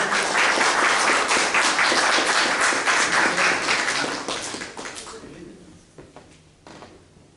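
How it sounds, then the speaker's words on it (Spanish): A crowd claps loudly and steadily for several seconds, then the applause thins out and fades to scattered claps near the end. "Fuerte palmas, por favor."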